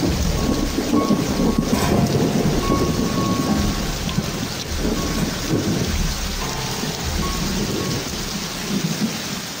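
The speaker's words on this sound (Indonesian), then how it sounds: "Bersamaan dengan angin kencang, hujan lebat pun turun menggantikan gerimis." Heavy rain pours down in strong wind with rolling thunder, a dense, loud and continuous roar of drops on surfaces with low rumbles beneath it throughout.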